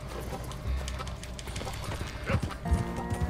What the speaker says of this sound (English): Okay, well, I'm gonna grab my horse.